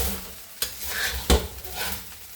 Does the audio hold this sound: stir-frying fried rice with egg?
yes